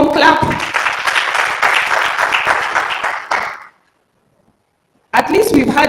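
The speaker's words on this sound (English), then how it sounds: "Could we kindly give him a warm clap?" Audience applause for a speaker at the East Africa Health Expo, a few seconds of dense, close clapping that stops abruptly, followed by a pause and then a voice speaking.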